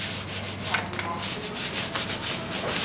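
Paint roller spreading a thin coat of moire finish over an eggshell paint film on a wall, a soft, steady rubbing swish repeating in short strokes, quiet and close.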